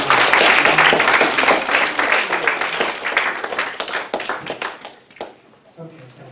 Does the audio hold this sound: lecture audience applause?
yes